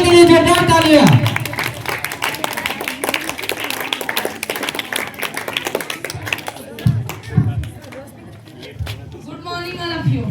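Applause for a student at a school debate competition, a burst of clapping from the audience after a voice announces him, the clapping fading under crowd noise with speech resuming near the end.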